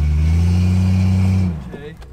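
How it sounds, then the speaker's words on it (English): A two-wheel-drive GMC Sierra truck in reverse, its engine holding a loud, steady droning rev for about a second and a half before cutting off, followed by faint rustling. "put it in reverse and two-wheel drive and bury this back axle"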